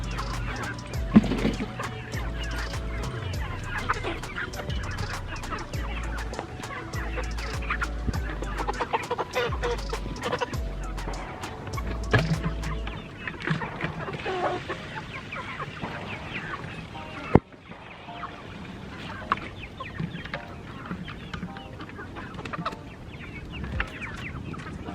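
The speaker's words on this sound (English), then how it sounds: "let me get these chickens some water real quick" Backyard chickens cluck repeatedly, close and busy, with scattered calls over background rustling and handling noise that quiets toward the end.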